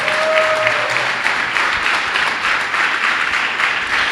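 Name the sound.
church congregation applause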